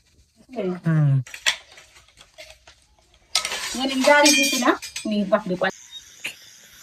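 Utensils being scrubbed and washed by hand, with a few scattered clinks of dishes between stretches of a nearby voice talking.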